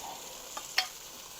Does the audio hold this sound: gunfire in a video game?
no